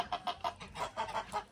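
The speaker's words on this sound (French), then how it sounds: "c'est un poulailler quoi" Chickens in a backyard coop clucking in quick repeated bursts, close and fairly quiet, about eight short clucks in rapid succession.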